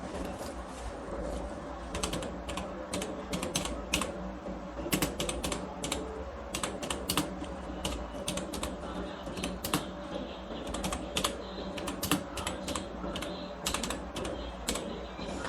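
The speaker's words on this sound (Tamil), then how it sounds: "அப்படியே நான் டைப் பண்ண ஆரம்பிக்கிறேன்." Rapid, irregular keystrokes on a computer keyboard clatter steadily and close up, with a low background hum underneath.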